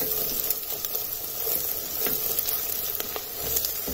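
Tomato rice ingredients sauté in a pressure cooker over slow-to-medium gas, giving a steady soft sizzle with occasional stirring scrapes throughout.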